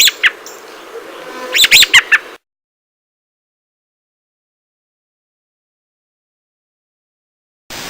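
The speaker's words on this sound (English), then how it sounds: "And the robin's alarm call sounds like this." A close burst of sharp, repeated American robin alarm calls with a busy chattering texture, ending abruptly into silence.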